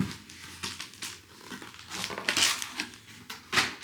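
Close crinkling and rustling as a paper journal is pulled from its crinkly sack, irregular crackles and rubbing rising in several louder bursts.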